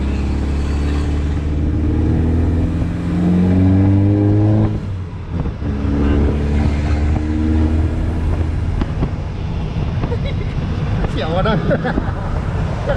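A car with a remapped ECU accelerates hard, its loud engine note sweeping upward through the gears with throttle lifts in between. The drone stays close and continuous while someone talks over it.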